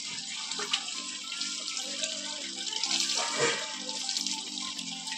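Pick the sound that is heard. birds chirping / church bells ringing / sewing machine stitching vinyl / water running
water running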